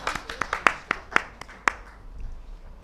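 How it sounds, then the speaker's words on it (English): Scattered, sharp hand claps from a small audience at a book volume release event come in about a dozen distinct strikes, then die away into quiet room tone. "And a particular clap to the editors."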